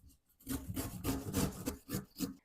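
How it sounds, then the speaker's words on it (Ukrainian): Rapid rough scraping strokes of a carrot rubbed against a coarse grater, repeating in a brisk back-and-forth rhythm, close and moderately loud. "а половину морквини натру на велику терку"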